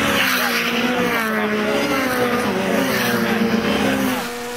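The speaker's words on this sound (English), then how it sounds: "The rest of the field charging over the line as the leaders head up towards the S's then." Lotus Elise race cars charge past on the Castle Combe circuit during a trophy race, a loud, continuous blend of revving engines and shifting pitches that fades slightly at the end.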